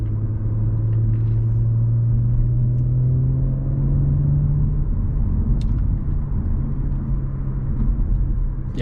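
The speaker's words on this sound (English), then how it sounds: "the 6 is just such a smooth sounding engine." A new Audi S4's six-cylinder engine cruises smoothly on the road. A steady low rumble with a faint rising drone fills the cabin, alongside even road and tyre noise. The engine stays close and constant, with no voices.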